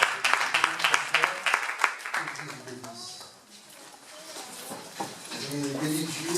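A church congregation applauds, its dense clapping loudest in the first two seconds before fading under a preacher's voice and then swelling gently again toward the end.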